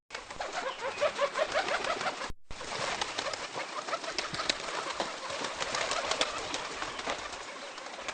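Pigeons cooing in a continuous, soft, rolling coo with wing flutters mixed in, close and steady throughout.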